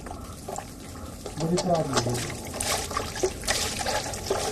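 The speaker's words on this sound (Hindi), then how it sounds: "और पानी डाल, पानी डाल।" Water is poured into a large basin (parat) of milk mixture, a steady splashing trickle that swells and ebbs, with people talking over it.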